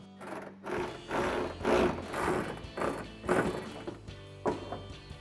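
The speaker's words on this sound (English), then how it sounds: "take whatever tool you have and you're going to tighten down these 2 bolts" A ratchet tightens two bracket bolts on a soft tri-fold tonneau cover for a 2005-2015 Toyota Tacoma, giving repeated close mechanical clicking bursts in short strokes with brief pauses between them.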